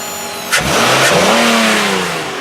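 A 2015 Nissan Quest's 3.5 liter V6 engine revs up close and loud, with a sharp burst of throttle climbing and then easing back toward idle, heard without any voices.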